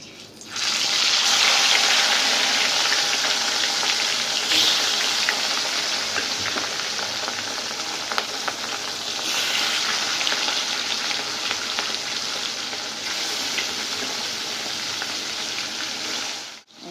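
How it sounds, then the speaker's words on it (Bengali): Fish frying in hot oil in a home kitchen, a loud steady sizzle and crackle that runs unbroken from start to finish, close by, with no talking. "মাছ ভাজা হচ্ছে।"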